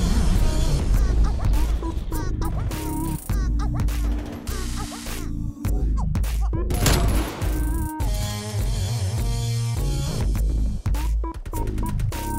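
Dense, loud gunfire in the shooter game Call of Duty: Black Ops Cold War, with rapid bursts, sharp cracks and booms filling nearly the whole stretch, broken by brief pauses.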